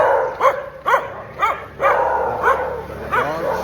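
Several dogs bark at dawn on a street in Canggu, Bali, giving about seven loud, close barks in a fairly regular rhythm with a faint whine mixed in.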